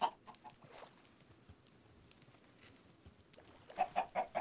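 Chickens in the video game Minecraft give short clucks in quick bursts at the start and again at the end, close and moderately loud, with a near-quiet gap between.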